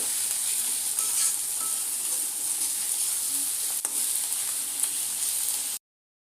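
Onion and garlic sizzling steadily in a pan for a shrimp curry of dried loitta fish, with a close, even hiss and a brief scrape near the middle before the sound cuts off.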